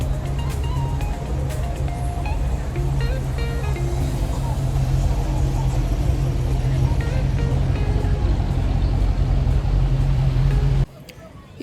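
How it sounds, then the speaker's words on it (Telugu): Steady road traffic flows on busy streets in downtown Naples after a beachside fireworks show, a continuous low engine rumble with cars passing close by, under murmuring voices, cutting off abruptly at the end. "మనకి ఇప్పుడు చాలా ట్రాఫిక్ ఉంటుంది"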